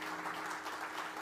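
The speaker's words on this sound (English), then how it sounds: "Give Paul like a big round of applause." Audience applause for a performer at a live show, a steady wash of clapping heard faint and distant.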